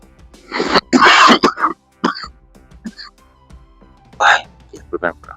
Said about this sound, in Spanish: de repente me dan mis ataques de tos